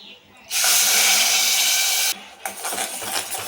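Half a cup of water poured into a cup of sugar to make syrup for Madurai-style paal bun, a steady loud splashing pour lasting about a second and a half, followed by softer clinking and stirring sounds.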